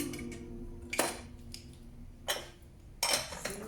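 A metal lid goes onto a simmering pot of ground meat and Swiss chard, giving three sharp clanks spaced about a second apart over a low, quiet kitchen hum.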